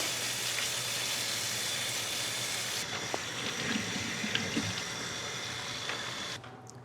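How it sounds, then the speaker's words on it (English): Tap water runs steadily into a sink while pork is rinsed with salt in a kitchen, a continuous close wash that cuts off abruptly near the end. "For this pork, we're going to do a little bit of salt rinsing."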